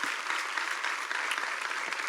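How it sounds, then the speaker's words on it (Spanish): A church congregation applauds during a Spanish-language sermon, producing a steady, even wash of many hands clapping throughout, moderately loud with no talk over it. "Puede darle un aplauso al Señor,"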